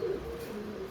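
A pigeon coos nearby, a soft low repeated call that is clear against quiet background noise.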